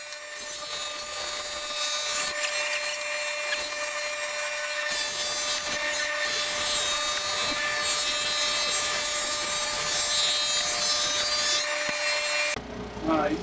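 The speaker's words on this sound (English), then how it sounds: "now I'm getting ready to run them through the drum sander." Segmented wooden urn rings run through a drum sander, making a loud, continuous abrasive roar with a steady motor hum. The grinding grows rougher partway through and stops abruptly near the end.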